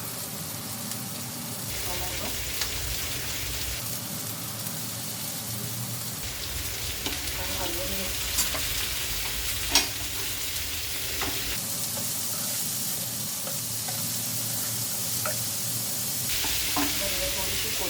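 Vegetables and a little onion frying in oil and spices in a pan, made for an Indian paneer kathi roll; a steady, fairly soft sizzle runs throughout, with occasional small clicks of stirring.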